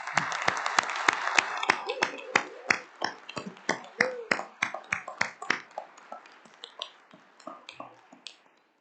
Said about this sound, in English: I think this deserves a big round of applause.